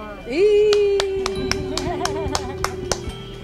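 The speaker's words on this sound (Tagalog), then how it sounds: "May palakpak dito." Hands clap sharply near someone as a hearing test, about ten crisp claps in a fairly steady rhythm, ringing out over a sustained electronic tone with quiet voices in the background.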